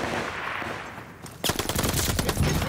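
MP40 submachine gun in Call of Duty Vanguard fires a rapid, loud burst of automatic shots after a stretch of background battle noise, with no talk.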